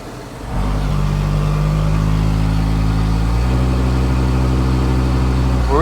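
A farm tractor engine starts and then runs at a steady idle, with a loud, even mechanical hum that holds throughout and shifts slightly in pitch partway through.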